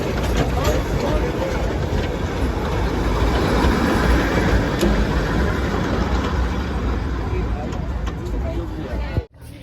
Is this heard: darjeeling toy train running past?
yes